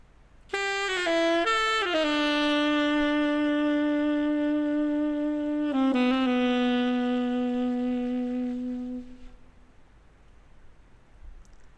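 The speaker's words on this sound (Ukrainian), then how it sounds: "саксафон." A saxophone plays a few short notes, then holds a long tone and a second sustained note before fading out into quiet hiss.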